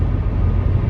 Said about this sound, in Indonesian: Suara bannya ini lebih masuk.